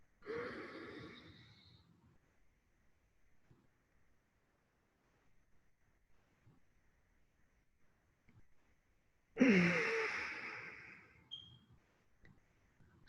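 Deep breaths during a Tummo meditation session, two long airy inhalations or exhalations separated by near silence, close and soft with no talk.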